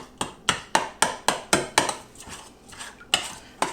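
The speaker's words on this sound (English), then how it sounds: "We've got to beat the egg yolks right up." Egg yolks for a no-corn cornbread are beaten by hand without a whisk, making a quick, regular series of sharp utensil taps against a bowl, about four per second, close and distinct.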